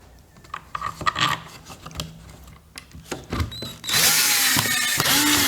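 Power drill driving screws into a scrap wood table, heard as several short whirring bursts between softer handling noises, then a louder sustained stretch of drilling near the end, close and fairly loud.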